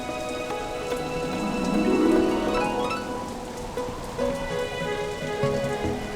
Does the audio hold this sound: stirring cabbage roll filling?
no